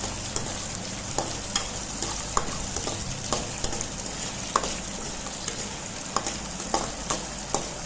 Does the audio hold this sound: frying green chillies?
yes